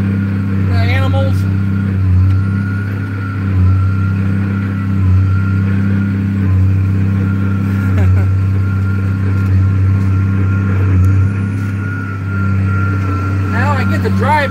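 A car drives along at sunset with a steady, close, low engine drone and road hum from inside, while someone talks over it.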